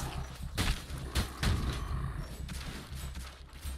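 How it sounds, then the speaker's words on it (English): Mortars firing in the zombie survival game Night of the Dead, several heavy booming shots spaced roughly a second apart over a continuous low rumble, moderately distant with no talking. "The mortars are doing some fine work."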